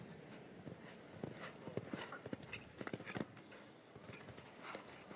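Horse hooves on a show jumping course at the La Baule derby, a series of soft, irregular thuds and clip-clops at a moderate distance over faint crowd ambience.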